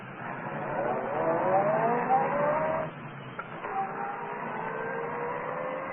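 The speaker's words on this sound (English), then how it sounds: "Well, then start this car." Old-time radio drama car engine running and revving, loud and steady throughout, with a pitch rise as it pulls away and a brief dip partway before the motor carries on.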